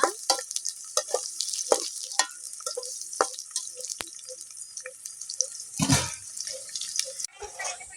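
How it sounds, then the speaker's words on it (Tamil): Garlic is stirred in hot oil in a pan, with a soft sizzle under irregular clinks and scrapes of a spoon. One louder burst comes near the end. "எண்ணெய் நல்லா காஞ்சதுக்கப்புறம் பூண்டை போட்டுக்குவோம். பூண்டு நல்லா செவக்க வதக்கணுங்க."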